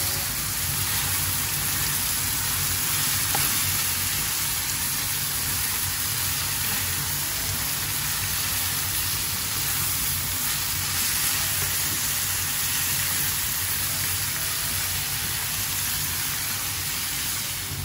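Bitter gourd (ampalaya) sizzles steadily in a pan as it is sautéed, a dense, even hiss of frying that stays loud and unbroken throughout, with no talking.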